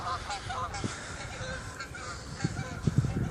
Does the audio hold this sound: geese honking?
yes